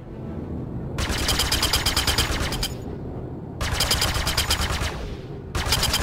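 Rapid automatic weapons fire in a space combat video game, loud sustained bursts of dense rattling shots, three runs separated by brief gaps over a steady low rumble.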